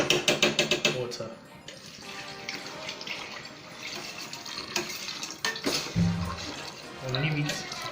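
Water pours into a cooking pot while fried rice is being made at home, a splashing rush under clinks of pots and utensils, with a person talking nearby.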